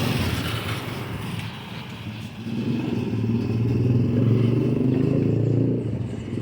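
Motorbikes rumbling along a residential street in Calamba, Philippines, a steady engine drone that swells and grows closer in the second half, then fades slightly at the end.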